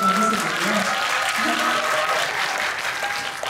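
An indoor audience at a film talk event claps steadily and loudly throughout, a dense wash of applause with a voice speaking underneath.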